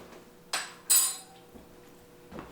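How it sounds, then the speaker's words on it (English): A fork clinks and scrapes against a small bowl while homegrown avocado is mashed, two sharp close metallic knocks followed by faint softer scraping, with no talking. "Give it a little mash."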